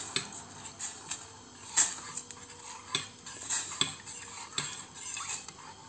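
A metal spoon clinks and scrapes against a pot of boiling pickling marinade with vegetables in irregular strokes, close and fairly quiet, with no voices.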